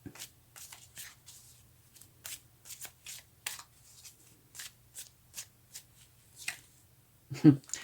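Tarot cards are shuffled by hand, a series of soft quick riffles and flicks, fairly faint and close, with quiet pauses between and a sharper tap near the end.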